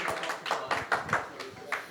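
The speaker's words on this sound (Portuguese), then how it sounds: "Uma salva de palmas." An audience claps to welcome a DHL Supply Chain vice-president onto the stage at an MIT alumni event, with quick scattered claps under an announcer's voice for about two seconds.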